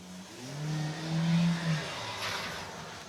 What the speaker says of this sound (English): Someone doing a skiddy. And there they go. Zooming on past.